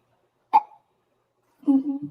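A man's burp from a podcast conversation: a short abrupt croak, then a second, longer voiced belch about a second later, both alone against silence.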